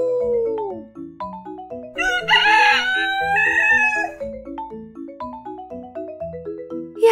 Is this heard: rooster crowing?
yes